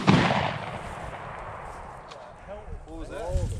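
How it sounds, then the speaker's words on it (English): A loud, cannon-like boom hits at the very start and rolls off into the background, heard outdoors during a rabbit hunt near a beaver dam; a voice follows a few seconds later. "Sounded like a cannon down here."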